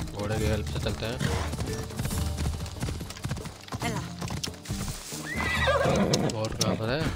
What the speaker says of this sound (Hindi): चलो घोड़े की हेल्प से चलते हैं।